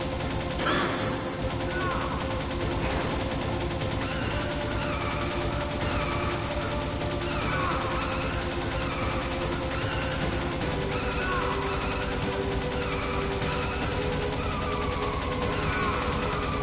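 Repeated gunfire in the Metal Gear Solid video game, sharp shots over a constant dense game soundtrack with dull ambient hum, steady and fairly faint throughout.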